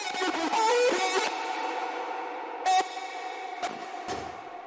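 A sustained synth chord with lush reverb that swells and ducks in rhythm, sidechained by a peak controller, with a few sharp transient hits punching through the wash.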